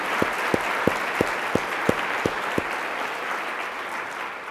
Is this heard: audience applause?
yes